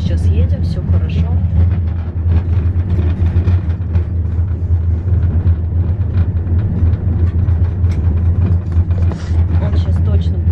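Steady low road rumble and engine drone from a car driving along, constant throughout, with someone talking over it.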